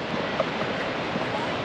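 Rhine Falls waterfall pouring heavily, a steady broadband roar of rushing water with no breaks, loud and close, sounding like crashing surf with some wind buffeting the microphone.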